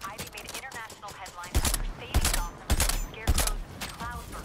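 Gunfire in the video game Suicide Squad: Kill the Justice League, with bursts of punchy shots and impacts mixed into busy game audio alongside voices and effects.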